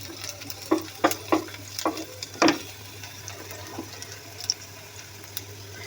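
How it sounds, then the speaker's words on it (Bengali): Liver, head meat and brain fried with onions in a pan, with a few sharp stirring scrapes and clatters over a low steady sizzle; no voices. "এখন এই কলিজা মাথার মাংস, মাথার মগজ আর কলিজা দিয়ে একসাথে একটু ভুনা করবো।"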